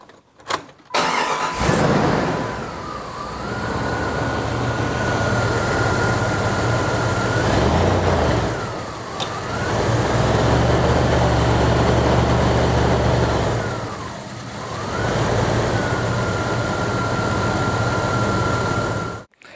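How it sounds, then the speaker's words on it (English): A car engine cranks and catches, then settles into a steady idle that swells and dips a few times, loud and close in a cool shop. "Now we simply hook up, start the car"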